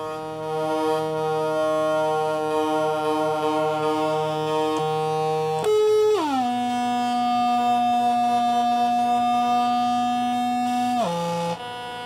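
A CircuitPython synthesizer driven by an LFO with a stepped waveform produces a sustained buzzy harmonic tone that jumps between distinct pitch levels in abrupt steps, loud and close, with no speech.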